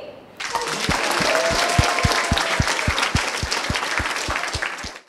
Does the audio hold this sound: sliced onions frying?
no